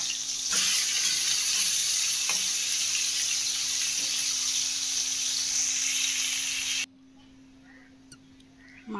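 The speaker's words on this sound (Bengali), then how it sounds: "তো আবার মাছ ভেজে নেব।" Fish frying in hot oil in a home kitchen, a steady loud sizzle with faint crackles that runs for most of the stretch, then cuts off abruptly, leaving a quiet hum.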